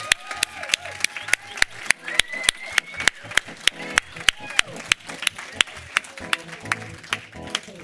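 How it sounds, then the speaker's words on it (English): Sharp, regular hand claps ring out in a steady rhythm at a Sunday church service, a single clear clapper rather than a full crowd, with faint voices underneath. "we have to clap again"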